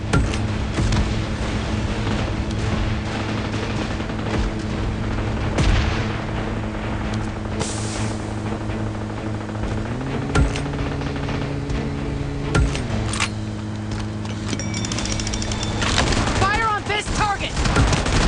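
Gunfire in the video game PUBG Mobile, dense bursts of shots and booms over a droning engine hum, with game voice announcements now and then.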